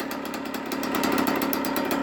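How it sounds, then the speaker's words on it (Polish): An AM6 80cc engine on a Generic Trigger SM motorcycle runs steadily, giving a fast, buzzing two-stroke putter close up that swells slightly in loudness partway through. "No i posłuchajcie jak silnik chodzi. Jest to silnik AM6 o pojemności 80."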